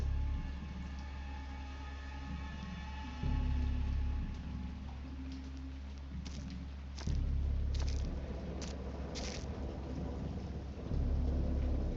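A thunderstorm with steady rain in the Lovecraftian horror video game Dagon: continuous heavy rainfall with deep rolling thunder swelling several times, loud and immersive, with no talking.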